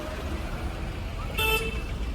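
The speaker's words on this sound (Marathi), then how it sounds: "फुल ट्रॅफिक आहे, फुल." Heavy road traffic rumbles along a Mumbai street near Babulnath temple, a low engine drone with a single short car horn toot cutting through midway.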